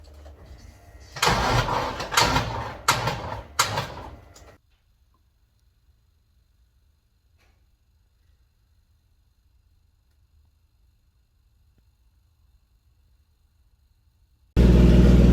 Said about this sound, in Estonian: Enne vaatame, kas see asi käima läheb ka üldse, see teeb päris rõvedat häält tegelikult